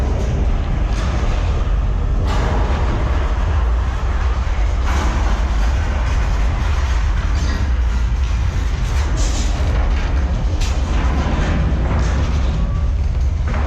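A loud, continuous rumbling roar with rattling and clattering of a simulated runaway subway train on a theme park studio tour ride, like a train barreling through a tunnel, steady throughout with no talking.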